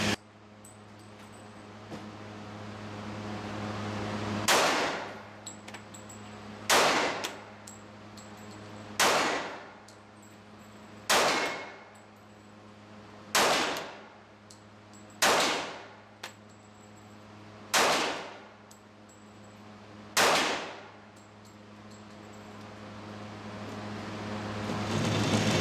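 Eight sharp, loud shots from a Smith & Wesson 1911 E-Class pistol at an outdoor range, fired singly about two seconds apart, each ringing out with a quick decaying tail over a low steady background hum.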